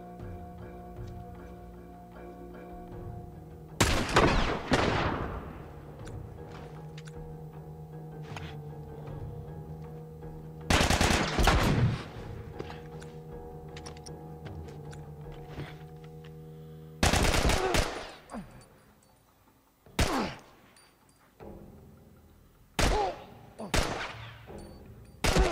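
Bursts of heavy gunfire from The Last of Us, a few loud clustered volleys separated by quieter stretches, followed by several sharp single shots near the end.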